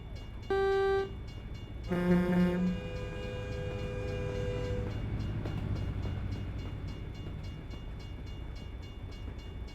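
Train horn blasts from a passing train in American Truck Simulator, set in Louisiana: a short toot, then a longer, louder chord, followed by a steady rumble of rolling rail cars.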